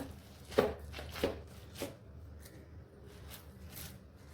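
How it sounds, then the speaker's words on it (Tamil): Cooked urad dal porridge being mashed with a ladle, with three soft, close thuds spaced about half a second apart, followed by quieter faint scraping. "இது அப்படி கொஞ்சம் கரண்டி வச்சு மசிச்சு விட்டுக்கோங்க"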